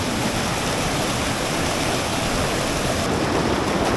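Strong river current rushing at Roing, Arunachal Pradesh, a dense, steady broadband roar close by with no pauses.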